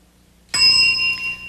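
A game show bell on the Blackout word-guessing program rings once, sharp and bright with a sustained ringing tone after a quiet start, fading slowly.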